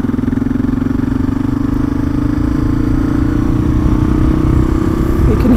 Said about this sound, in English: Hear that the engine starts to race really fast